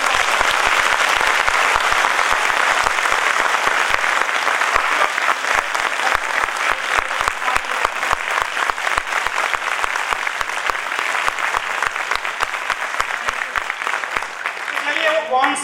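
A large audience at a motivational talk gives sustained applause that settles into strong, rhythmic unison clapping, beating steadily and loudly for about fifteen seconds.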